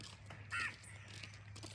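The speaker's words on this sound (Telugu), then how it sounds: "కాకి." A single crow caw rings out once, brief and moderately distant, over a quiet village background with a low steady hum.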